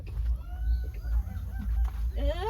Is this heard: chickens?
yes